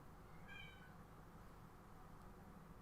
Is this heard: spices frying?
no